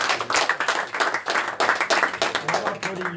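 An audience at a blockchain workshop claps in quick, slightly uneven bursts, close and fairly loud, with a voice coming through faintly in the background.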